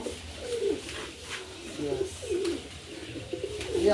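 A male Kalanka pigeon gives low, burbling coos at close range, repeating them roughly once a second in a steady pulsing rhythm over a soft background hum.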